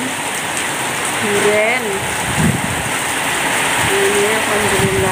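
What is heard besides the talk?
heavy rain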